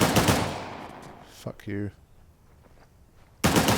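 Gunfire in the action game Uncharted: The Lost Legacy, with loud bursts of shots at the start and again at the end and a quieter stretch between, while a voice speaks briefly in the middle.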